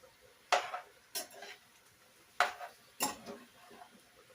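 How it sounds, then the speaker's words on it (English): A spoon knocks and scrapes against a cooking pot as chicken with potato, garlic and herbs is stirred, four or five distinct clinks spaced irregularly, close and fairly clear over a quiet room. "stir everything."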